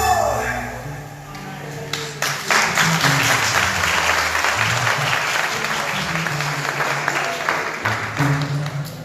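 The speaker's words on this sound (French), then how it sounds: "Je vous demande d'applaudir chaudement." Church congregation at an anniversary service applauding warmly, dense crowd clapping that swells after a couple of seconds and holds steady, with a voice and some musical tones sounding underneath.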